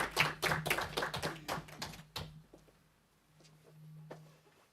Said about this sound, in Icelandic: Já, það er svo sannarlega vel við hæfi að klappa á þessum tímapunkti